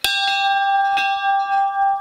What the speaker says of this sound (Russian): Колокол.